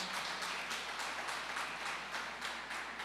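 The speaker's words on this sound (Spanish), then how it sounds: "Damos un aplauso a la presencia del Señor, lo honramos." A church congregation applauds together in a steady, rhythmic wash of clapping that sounds somewhat distant and fairly quiet.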